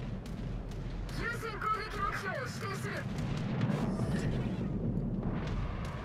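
Secondary gun fire from a ship in World of Warships, the Giuseppe Verdi, rumbling booms and repeated shots in a dense battle din, with a voice talking over part of it.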